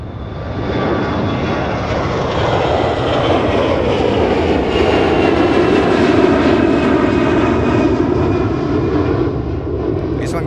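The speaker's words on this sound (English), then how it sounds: "4 years old Airbus A321." Engines of a four-year-old Airbus A321 airliner on a flight to Detroit, a loud, continuous jet roar heard close by that holds strong throughout with a faint rising whine.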